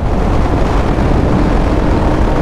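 A 2008 Suzuki GSR 600 motorcycle ridden at speed, with a loud continuous roar of engine and rushing wind noise throughout.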